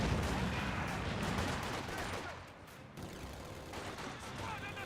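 Mortar fire and battlefield gunfire in Company of Heroes 2, a dense barrage of booming shots and volleys, dipping briefly midway before resuming, with a caster talking over it.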